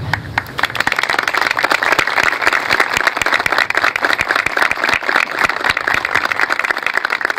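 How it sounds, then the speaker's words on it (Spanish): A large crowd claps loudly and steadily for a 101-year-old grandmother at the town's anniversary celebration in Ingeniero Jacobacci, a dense sustained ovation with no talking over it. "quiero que también la recibamos con un fuerte aplauso"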